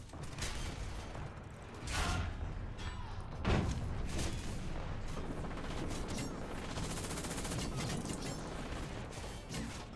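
Tank battle in War Thunder, with cannon shots and dense gunfire rolling on through a noisy mix, one heavier boom standing out near the middle, loud and continuous with no voice heard.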